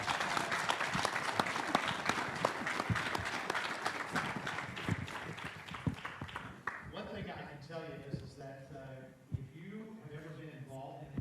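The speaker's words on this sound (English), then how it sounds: "Can we give them a round of applause?" A round of applause from a church audience: loud, dense clapping for about six seconds, then thinning out as a voice begins talking over the last scattered claps.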